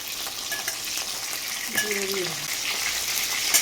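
Chicken pieces fry in a hot pan for a spicy chicken kosha, with a steady bright sizzle and occasional stirring scrapes, while a faint voice murmurs in the background.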